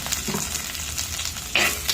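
Shallots, green chilies and curry leaves sauté in a pan for a Pathanamthitta-style fish curry, a close steady sizzle with a few stirring scrapes and a louder spatter near the end, no voices.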